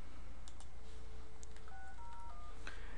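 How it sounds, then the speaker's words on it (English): An IP phone dialing extension 6001: four short DTMF tone pairs beep in quick succession over a steady electronic hum, alongside a few faint key clicks. "so if I now dial 6001"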